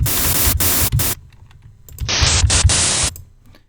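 Bursts of harsh broadband AC hum noise with harmonics, an underlying low hum, switching on and off in two long blocks separated by near silence.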